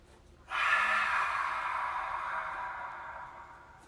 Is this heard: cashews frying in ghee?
no